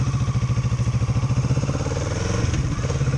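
Kawasaki ER-6n or Z650 parallel-twin motorcycle on a test ride, its engine loud and close with a steady pulsing throb that smooths slightly as revs rise, no talking.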